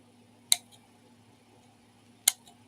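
Two sharp, isolated snips as plastic supports are clipped off 3D-printed space shuttle nose cones, spaced well apart against a quiet background hum.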